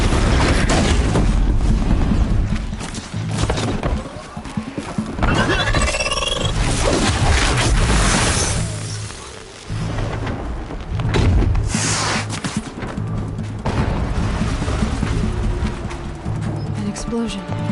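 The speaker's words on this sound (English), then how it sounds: "Explosion." Explosions and combat in Horizon Zero Dawn, with loud booms, crashes and mechanical clatter over a constant roar of game music and effects, and voices of characters talking throughout.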